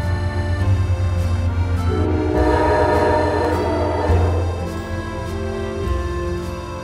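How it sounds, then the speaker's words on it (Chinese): A passenger train runs north along the Hudson River toward Cold Spring, New York, with a steady loud rumble and rail noise, and sustained horn-like tones sound throughout, close and continuous, with no voices. "火车沿着 Hudson River 一路向北，带着乘客感受左右绝佳的风景。"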